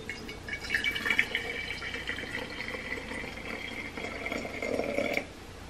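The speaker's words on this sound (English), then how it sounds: "first we're going to pour our hot water in" Hot water poured from a kettle into a glass jar for a homemade cloud demonstration, a steady close liquid trickle with splashy filling that swells toward the end, then stops abruptly.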